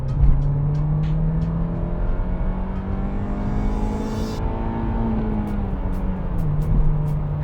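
A VW Golf GTI MK3 engine revs steadily and loudly up close, its tone climbing gradually and then falling back, with no voices over it.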